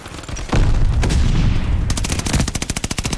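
A PP gun fires in Call of Duty, a loud close burst of rapid automatic shots that ends in a sharp rattling stutter of quick rounds, with no voices.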